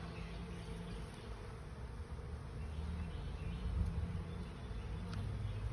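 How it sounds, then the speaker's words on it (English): Honey bees hum steadily inside a hive fitted with a Cloake board for queen rearing, a dense close buzz that stays even throughout with no talk. "So, theory is these bees will come up here, jam pack up here"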